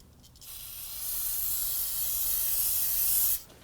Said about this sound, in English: Now at this point here, go ahead and use some spray solvent.